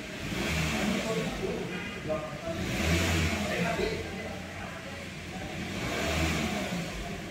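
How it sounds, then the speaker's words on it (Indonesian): The engine of a 2022 Mitsubishi Xpander Sport CVT runs steadily nearby, a moderate hum that swells slightly a few times, with a voice talking over it. "Nah ini dia suara mesinnya."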